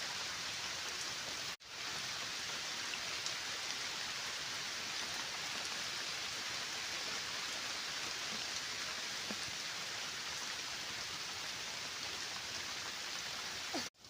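Heavy rain pouring steadily on a village in Odisha, a dense, continuous hiss of falling water that is loud and close, with no talk.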